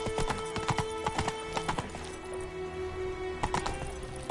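Hooves of the horse Roach clip-clop at a trot in The Witcher 3, a steady close rhythm of hoof strikes in bursts with a brief pause, over a soft game ambience.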